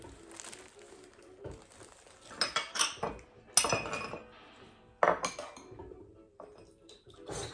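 Dishes and cutlery clink and clatter in a home kitchen as a new plate is taken out. Irregular bursts of sharp metallic and ceramic knocks are separated by quieter gaps, all heard close.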